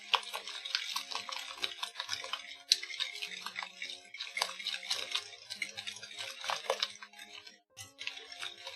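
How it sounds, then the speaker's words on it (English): A whisk beating a simple treacle-style pudding mixture in a bowl, giving a steady run of close, rapid scraping and clicking strokes that continue with short pauses throughout. "Now we whisk it in."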